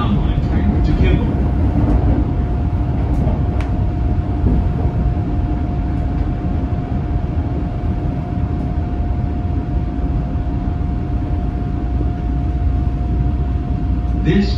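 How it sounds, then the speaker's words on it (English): Chicago CTA Brown Line "L" train running steadily, a continuous loud rumble and rail roar with a constant electrical hum throughout, close and unbroken for the whole stretch. "This is a brown line train to Kimball."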